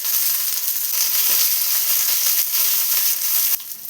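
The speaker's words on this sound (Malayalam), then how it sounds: "ഇനി ഇതെല്ലാം കൂടെ ഒന്ന് ഫ്രൈ ആയി വരണം." Shallots and curry leaves fry in hot oil in a pan, giving a steady, close hiss of sizzling that runs throughout, with a faint clink near the start and a brief rise in intensity toward the end.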